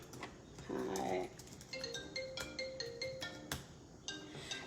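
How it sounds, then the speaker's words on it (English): A phone ringing with an incoming call, a faint repeating electronic ringtone of short tonal bursts in a quiet room. "I got somebody calling me over the phone"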